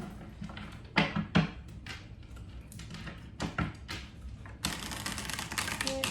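Tarot cards being shuffled with riffling, flicking bursts and taps, ending in a longer continuous rustling shuffle.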